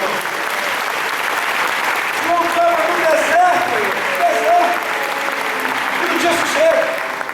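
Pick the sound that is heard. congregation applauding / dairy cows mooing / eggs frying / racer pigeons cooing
congregation applauding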